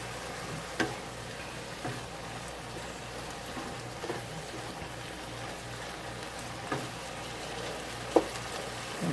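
Onions fry in a pan on a home stove, giving a soft, steady sizzle with a few light clicks and taps from the cookware and no talking.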